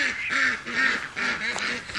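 Ducks quacking in a lively, rapid series of nasal calls, close and loud, several birds overlapping with brief pauses between bursts.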